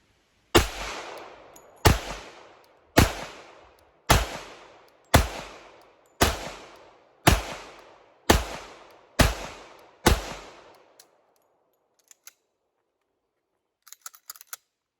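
A Sig P227 pistol fires ten loud, sharp shots at an even pace of about one per second, each with a brief echoing decay, followed by a few faint clicks and handling sounds.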